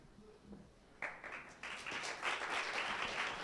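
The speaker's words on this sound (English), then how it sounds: "give these guys a round of applause" Audience applause at the New York Game Awards 2015, starting thin and scattered, then swelling after about a second into steady, fuller clapping from a crowd in a hall.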